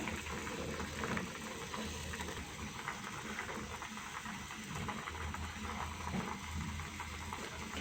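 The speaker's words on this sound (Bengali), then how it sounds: "বলক চলে আসছে" Pitha mixture for soft, sweet modok puli coming to a boil in a pot on the stove, a steady low bubbling simmer running evenly throughout with no voices.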